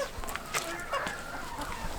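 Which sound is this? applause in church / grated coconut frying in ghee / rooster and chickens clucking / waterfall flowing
rooster and chickens clucking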